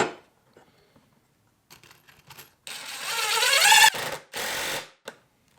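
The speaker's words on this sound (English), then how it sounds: "I'm going to throw 2 screws in." A screw is driven into a wooden router jig: a few small clicks and handling noises, then a rising whir of a power driver for about a second, a short pause, and a second brief burst.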